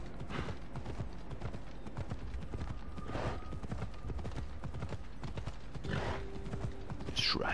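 Horse hooves clip-clop steadily in Assassin's Creed Odyssey, a quick even trotting rhythm under ambient game sound and faint tonal music, with no talking.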